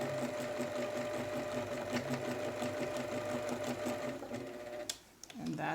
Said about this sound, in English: going to put the presser foot back down and stitch back the way we came